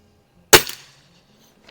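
A single sharp crack from an Umarex Prymex .22 caliber air rifle firing a pellet at 25 yards on a range, loud and close with a brief decaying tail, then quiet.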